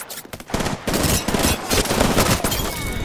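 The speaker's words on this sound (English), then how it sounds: "Oh, he's about to shoot at me." Rapid automatic gunfire in the Apex Legends video game, a loud sustained volley of shots following a few scattered bursts.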